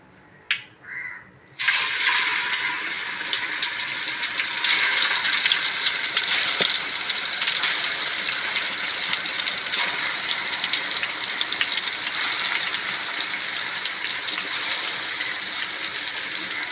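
Chicken pieces hit hot coconut oil in a pan with a sudden loud sizzle that settles into a continuous, even crackling hiss, close and with no talk.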